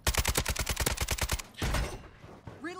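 A Kastov 762 rifle in MW3 fires a rapid, evenly spaced automatic burst of about a dozen sharp, loud shots, followed by a short scatter of further gunfire and rumbling game noise.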